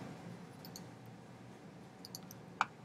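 A computer mouse clicking once, a single sharp close tick standing out near the end of an otherwise quiet room hush, with a few faint softer ticks earlier.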